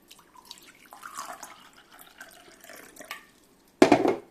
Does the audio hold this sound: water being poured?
yes